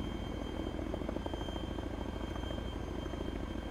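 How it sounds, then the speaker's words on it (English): A Chinook helicopter in the video game Arma 3, heard from inside as a dense, constant rotor and engine roar with a rapid, steady throb, loud and unbroken throughout. "We're in a Chinook with big Chinook guns"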